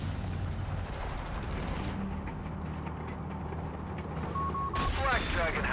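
An 88 gun firing in Company of Heroes 3 amid a loud wartime battle, heavy booming shots and rattling gunfire over rumbling ambience, with a commentator talking over it.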